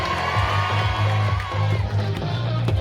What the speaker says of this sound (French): on applaudit fort la cérémonie des Oscars